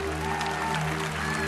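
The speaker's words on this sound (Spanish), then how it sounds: "Un aplauso, por favor." A church congregation claps in a short burst of steady applause over a humming, tonal room background.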